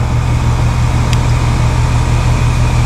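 An AC condenser fan motor fitted with a hard start kit runs outdoors. It makes a loud, steady mechanical hum with a low drone and broadband airflow noise, continuous and close.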